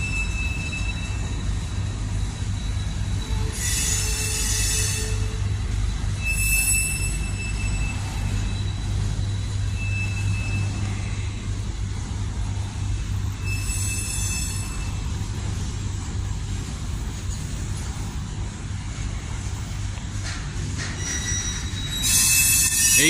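A long Norfolk Southern manifest freight train rolls steadily past on the Harrisburg Division, a continuous loud rumble of rail cars broken by several bursts of high, shrill wheel squeal, heard alone without talk.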